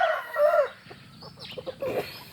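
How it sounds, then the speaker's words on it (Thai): A large fighting rooster of about three kilograms crows loudly and close by, one drawn-out call followed by shorter clucking sounds, with no talk over it. "มาดูไก่ยักษ์นะครับ สามกิโลสามนะครับ"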